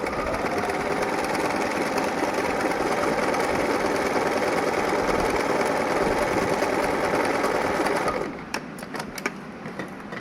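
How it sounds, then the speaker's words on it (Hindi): A sewing machine runs at a steady fast stitching rhythm through fabric for about eight seconds, then stops, leaving a few light clicks and handling sounds. "इसके बाद एक और सिलाई करेंगे"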